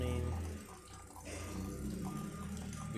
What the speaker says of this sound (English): we're just going to run hot water until it runs out of water in the water tank